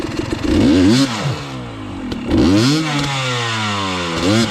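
A dirt bike engine revs hard in repeated bursts while climbing a trail on Little Naches, close and loud, with pitch rising and falling between throttle blips.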